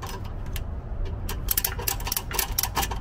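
Hand crank on a tow truck's pickup mechanism turning with a rapid ratcheting clatter, faint at first then louder clicking bursts, heard up close outdoors without talk.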